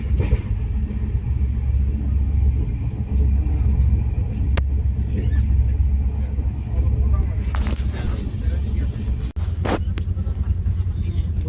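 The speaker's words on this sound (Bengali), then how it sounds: "আমরা ট্রেনের মধ্যে উঠে পড়েছি।" Inside a moving train, a steady low rumble and throb of the carriage runs throughout, with brief clanks and rattles near the end, under quiet talk.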